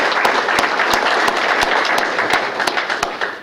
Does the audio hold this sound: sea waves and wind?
no